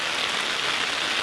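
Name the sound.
heavy rain falling on paddy fields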